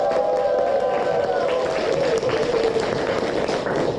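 A church congregation applauding together at the opening of a Bible reading class, dense continuous clapping from a crowd alongside a sustained tonal hum, loud and filling the whole stretch.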